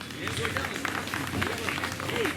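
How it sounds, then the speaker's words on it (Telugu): Audience at a school award ceremony for tenth-class students clapping, a scattered round of applause running under a nearby voice speaking over it. "అబ్బాయిలన్నా కనీసం చప్పట్లు కొట్టండి."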